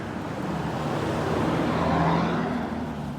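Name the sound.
riding in a jeepney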